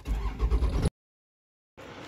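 A truck engine that pulls an enclosed trailer turns over and starts: a brief, close rumbling burst, then a sudden silent gap, then the running engine resumes.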